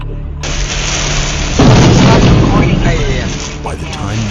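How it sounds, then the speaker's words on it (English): Lightning strikes a utility pole in a residential neighborhood during heavy rain, giving a sudden loud boom and crackling burst over steady rain noise that fades after a couple of seconds. "a bolt of lightning suddenly struck a utility pole in the middle of the neighborhood"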